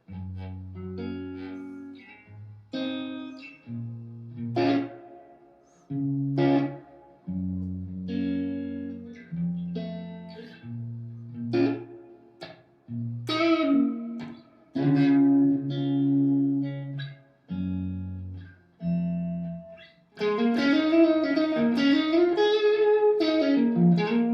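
Electric guitar played through an amp simulator, clean notes and chords with effects, ending in a denser, brighter strummed passage with reverb.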